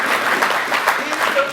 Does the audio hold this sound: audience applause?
yes